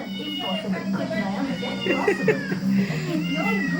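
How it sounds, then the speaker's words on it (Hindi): A cat meows and caterwauls repeatedly in a home setting, several drawn-out, wavering cries close by, with people talking underneath. "बिल्ली खोल के म्याऊ म्याऊ करा रही उसको"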